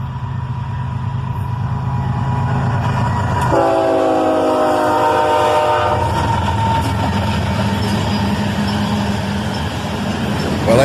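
A freight train led by two BNSF locomotives rolls past close by, its horn sounding a long sustained blast over the steady heavy rumble of the cars.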